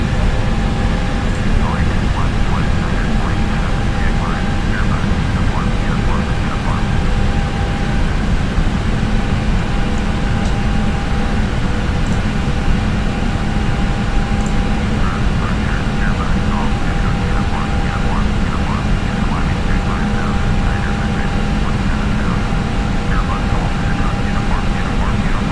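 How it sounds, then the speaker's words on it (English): Steady jet engine drone of an Airbus airliner climbing to cruise altitude in a flight simulator game, a constant broadband roar throughout with no breaks. "So now we're just climbing to our cruising altitude"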